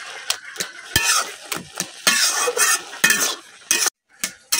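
A utensil stirs taro greens and stems together in a pan, with repeated scraping and clattering strokes over a soft sizzle, close and alone with no voices.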